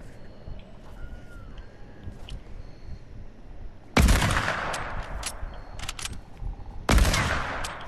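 Sniper rifle fire in a Fortnite or Call of Duty Modern Warfare match: two loud, sharp single shots spaced about three seconds apart, each with a ringing tail, over a busy low game background.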